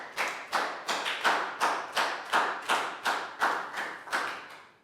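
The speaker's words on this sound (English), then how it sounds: "Big round of applause for Down" Primary classroom pupils clap in unison for a classmate, about ten crisp, evenly spaced group claps in a steady rhythm, each sharp hit fading quickly, with no talking over it.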